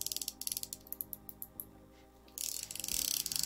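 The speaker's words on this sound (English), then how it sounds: "Tighten down the drag a little bit. We've got drag, folks." Fly fishing reel with a repaired drag clicks rapidly as line is pulled from the spool, a close, crisp ratcheting burst that pauses briefly and then resumes faster and denser.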